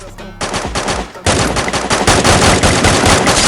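Rapid automatic gunfire in a battle royale video game, loud close bursts of shots crackling in a fast continuous rhythm after a short pause.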